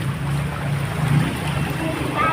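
Seawater gushes through cracks in a boat's hull, a continuous rushing wash mixed with wind and surf noise, steady and fairly loud throughout.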